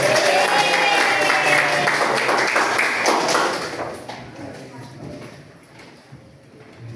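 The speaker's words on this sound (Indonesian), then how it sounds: "Tepuk tangan untuk kita semua" A classroom group claps together in a rhythmic clapping game during a vocational computer networking lesson, dense and loud for about four seconds before fading into quieter scattered claps and room noise.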